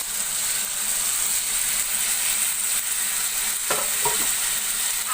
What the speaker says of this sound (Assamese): আলুখিনি এড কৰাৰ পাছত আকৌ এবাৰ ধুনীয়াকৈ লৰাই দিব